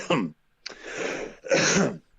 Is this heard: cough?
yes